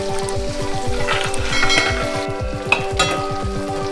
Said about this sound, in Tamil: சின்ன வெங்காயம் கொஞ்சம் டிரான்ஸ்லூசன்ட், கொஞ்சம் கலர் மாற வரைக்கும் நம்ம ஃப்ரை பண்ணிக்கலாம்.